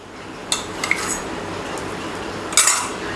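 Metal utensil scraping and clinking on an iron tava griddle while butter is spread on cut bread rolls, a few sharp clanks early and a louder scrape near the end over a steady low kitchen hiss.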